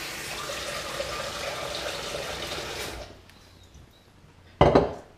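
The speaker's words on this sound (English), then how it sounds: "So I'm just going to fill this up with a bit of water and allow them to soak." Tap water runs steadily into a container for soaking foraged sloes, then stops, followed by a brief loud clatter of the container or dish near the end.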